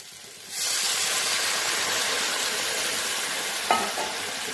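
Mixed vegetables sizzle loudly in a hot pan while being stirred, a constant hissing fry that starts abruptly and holds steady, with a brief scrape of the utensil near the end.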